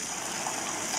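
Plain water rinse from a hose-end bottle sprayer set to its second position, hitting a metal roof as a steady, even hiss and patter, close and continuous with no voices.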